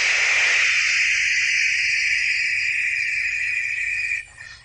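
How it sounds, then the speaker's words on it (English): Steady broadband white noise, a loud, even hiss that holds for several seconds and then drops off abruptly near the end. "white noise is wide spectrum sound"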